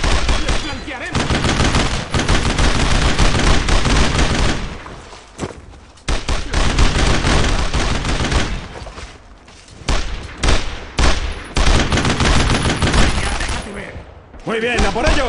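A video game battle with loud, sustained gunfire and machine gun bursts, dense and close, broken by brief pauses, with soldiers shouting orders beneath the shooting.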